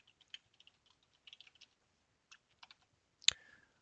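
Light typing on a computer keyboard, scattered key clicks in short clusters close to the mic in a quiet room, ending with one sharper, louder keystroke.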